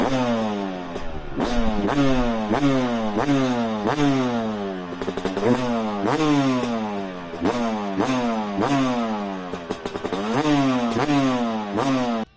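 A two-stroke dirt bike engine fitted with a longer silencer revs repeatedly, its exhaust rising and falling in a rapid, raspy cycle of throttle blips, loud and close throughout.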